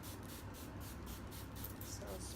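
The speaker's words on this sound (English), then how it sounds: "spray." Water spritzed from a spray bottle onto a big section of hair during a hair-care routine, a soft, steady hiss at close range lasting through the moment.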